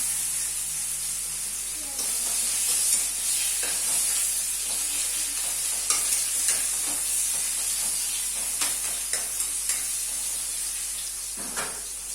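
Chopped onion and vegetables frying in a pan, a soft steady hiss with scattered stirring scrapes and taps, fairly quiet and without speech.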